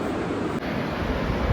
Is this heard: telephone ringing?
no